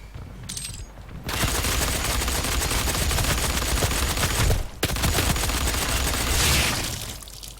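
Sustained rapid machine gun fire in DOOM multiplayer, loud and continuous for several seconds with a brief break, then tapering off near the end.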